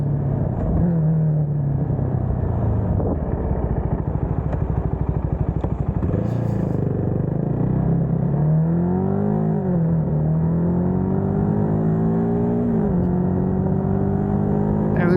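Cfmoto 300NK motorcycle ridden around a hometown on its first ride after an oil change, engine revving up and down through the gears with rising and falling pitch sweeps, close and loud alongside steady wind noise.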